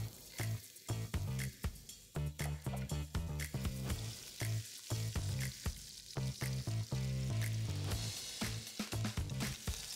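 Chopped fresh garlic fries in hot oil in a pan, a close, steady sizzle that runs the whole time without pause.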